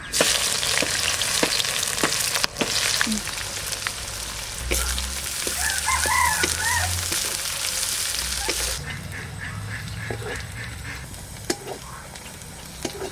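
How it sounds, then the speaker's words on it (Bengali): Chopped onion frying in hot mustard oil with bay leaves, cinnamon, clove and cardamom, a loud steady sizzle with scraping stirs that eases after a burst and continues quieter, no voices. "এবার দিয়ে দিচ্ছি কুচানো পেঁয়াজ"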